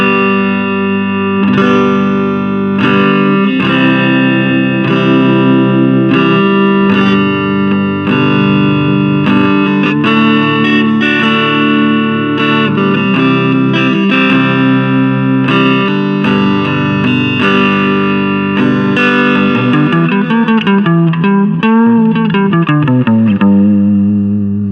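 Electric guitar played through a Roland Micro Cube amp with the reverb set about halfway: loud sustained chords and single notes ringing with a reverb tail, ending in a bending, wavering phrase, with no talk.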